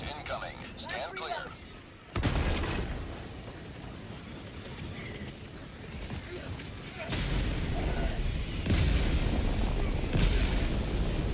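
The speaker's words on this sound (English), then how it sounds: "Orbital barrage incoming. Stand clear." Orbital barrage explosions in the Helldivers video game: heavy booms land every few seconds over a continuous rumbling, crackling din, loud and close.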